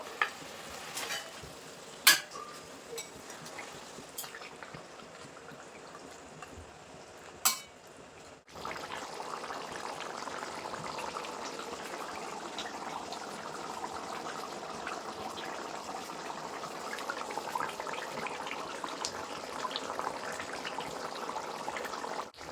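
Boal fish pieces simmer in a pot of spiced Bengali fish curry made with ground masala, with faint stirring clicks early on, then a steady low bubbling and sizzling that continues quietly throughout.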